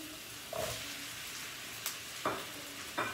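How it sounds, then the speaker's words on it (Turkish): Tomato paste sizzles and fries in a hot pan, starting to catch on the bottom, with a constant soft crackle and a few brief louder bursts as it is stirred. No one speaks. "Arkadaşlar, salçamız iyi kavuralım ki midemize dokunmasın"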